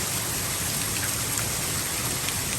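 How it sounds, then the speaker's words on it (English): Heavy soaking rain pours steadily onto a corn field, a dense, even hiss of countless drops with no pauses, fairly close and alone without any voices. "we have got a great rain now. I mean, this is a good soaking rain."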